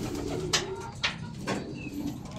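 Racing pigeons at a loft in Gapan, Nueva Ecija coo softly nearby, several short burbling calls spaced about half a second apart, with faint rustling between them.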